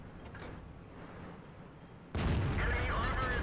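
An enemy tank's gun fires in the World of Tanks battle game, striking at once with a loud broadband blast that then holds as a dense roaring rumble for over a second.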